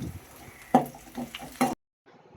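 Curry leaves hit hot oil in two sharp, crackling surges of sizzling, then the sound cuts off into near silence.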